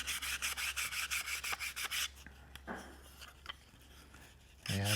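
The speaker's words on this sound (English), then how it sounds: "I might just be able to hand sand it to the point where it's gonna sound good." Sandpaper rubbed by hand over a wooden turkey box call, a quick run of rhythmic rasping strokes, then sparse scrapes and a louder handling noise at the end, close up with no voices.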